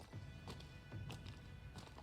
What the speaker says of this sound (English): But we can also have footsteps near the beach.